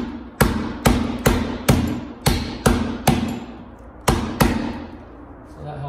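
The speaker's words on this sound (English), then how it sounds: "I've just been hitting it with my drill." A power drill is used as a hammer, striking a screwdriver to press a USB duplex electrical receptacle flat, giving about nine sharp, evenly spaced knocks with short ringing decays, close and loud.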